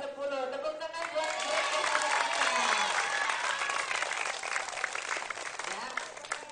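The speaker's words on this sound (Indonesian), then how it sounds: "Tepuk tangan buat" Students and staff at a Monday flag ceremony applaud a school ranking announcement, a broad, fairly distant crowd clapping continuously, with a few voices and cheers mixed in.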